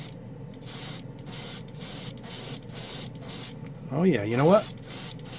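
Green Stuff World Candy Ink acrylic paint being speed dried with blasts of air: a run of evenly spaced, close hissing bursts, with a person talking near the end.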